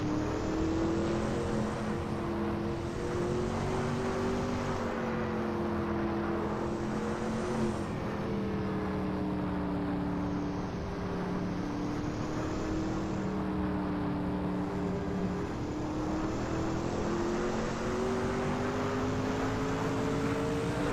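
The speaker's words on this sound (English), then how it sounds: "That Mercedes-Benz C9 1989 LM looks good driving through Porsche curves" A 1989 Mercedes-Benz C9 LM race car in a video game, driving through the Porsche Curves at Le Mans. A continuous loud engine drone rises and falls in pitch through gear changes, with no voices.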